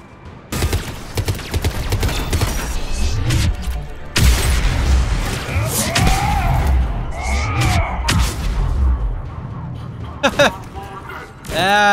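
Turret gunfire and explosions in the Mass Effect 3 Krogan DMZ level, loud bursts and booms scattered across the span with a player talking over the action.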